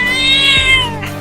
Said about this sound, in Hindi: अरे वाह, एक छोटी और मोटी बिल्ली